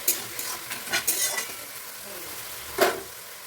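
Chopped onions fry in oil in a pan, with a soft sizzle beneath. A spatula scrapes and knocks against the pan in irregular bursts, the loudest coming near the end.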